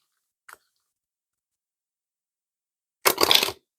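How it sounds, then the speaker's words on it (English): Large tarot card deck being shuffled by hand, a quick faint flick followed a few seconds later by a loud half-second riffle burst of cards. "Oh, that was a horrible shuffle."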